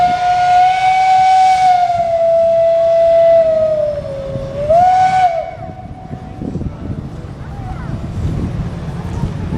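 A loud steam engine whistle at a Maryland Steam Historical Society show sounds one long, steady blast that bends at the end, then cuts off into continuous close hissing steam and machinery rumble.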